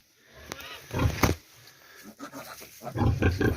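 Pigs grunting and snorting inside a small farm shed where sows and piglets are kept, a few close, irregular bursts of low grunts with quiet gaps between them.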